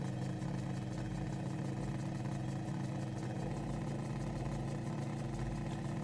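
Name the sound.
aircraft engine in flight simulator video game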